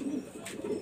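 A tournament-grade pigeon gives a short, low, throaty coo close by, a brief soft rolling call with no talk.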